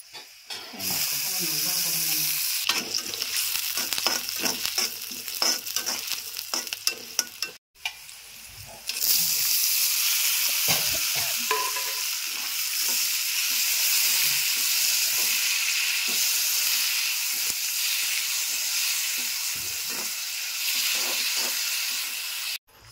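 Vegetable palya curry frying in oil in a pan in a home kitchen, with a steady bright sizzle and hiss that breaks off briefly around the middle, and occasional stirring scrapes in the pan.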